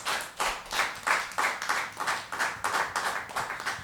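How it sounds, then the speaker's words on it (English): Audience at an event celebrating hip hop's 49th anniversary claps in a strong, even rhythm, each loud clap swelling and fading in quick succession, close and without talk. "I think that deserves a rousing round of applause."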